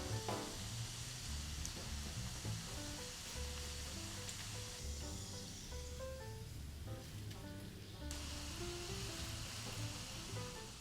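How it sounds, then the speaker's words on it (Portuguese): Savory party snacks deep-frying in hot oil give a steady, close sizzle throughout, with no voices and some faint background tones underneath. "o segredo para fritar bem o salgado é o óleo estar bem quente"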